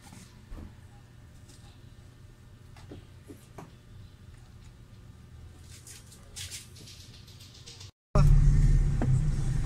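A Honda Civic VTi is test-driven after a speedometer gauge repair: quiet cabin hum with scattered small clicks and ticks, then an abrupt cut to a much louder, steady low engine and road drone.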